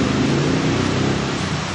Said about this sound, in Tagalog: Lakas ng ulan ah.